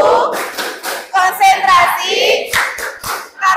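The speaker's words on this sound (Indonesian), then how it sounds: "Tepuk konsentrasi" Children chant a concentration clapping rhyme, their voices mixing with sharp, rhythmic hand claps in quick bursts, loud and close, with pauses between the clap groups.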